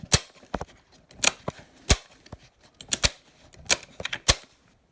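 Trigger of an MSK gun, fitted with 3-D printed parts and unused for three years, clicking and resetting repeatedly in sharp, close, irregular snaps with no speech.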